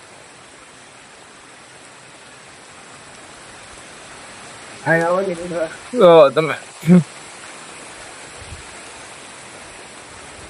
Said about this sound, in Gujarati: હવે વરસાદ તો ફૂલ આવ્યો છે